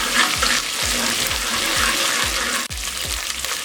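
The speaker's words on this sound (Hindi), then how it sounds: "इसको 30 सेकंड के लिए हम फ्राई कर लेंगे" Ginger garlic paste sizzles with onions in a pan, a loud steady crackle broken by regular spoon strokes about every half second, heard close and alone.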